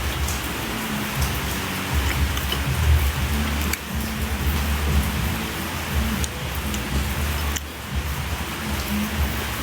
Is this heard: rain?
yes